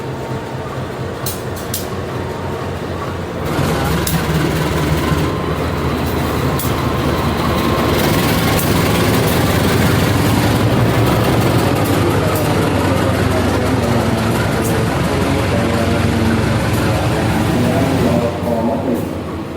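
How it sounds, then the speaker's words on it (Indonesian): Vintage-liveried CC 203 diesel locomotive hauling a passenger train in Indonesia, heard as a loud, steady rumble of engine and rolling wheels with clattering rail noise building after the first few seconds and carrying on throughout. "bisa naik kereta ditarik lokomotif CC 203 yang liverynya vintage kayak CC 201"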